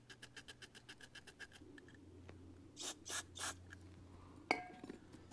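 Hand filing of the ignition points on a Honda CB360 motorcycle with a points file: a quick run of about a dozen short, even rasping strokes up close, then a few broader scrapes and a sharp metallic click.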